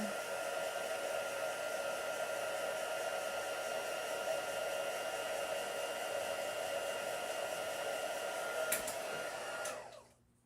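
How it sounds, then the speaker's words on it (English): A heat embossing tool blows hot air in a steady, loud, close hiss for about ten seconds while being used on a craft project, then cuts off abruptly at the end. "Even though it's noisy, you can see the magic of embossing."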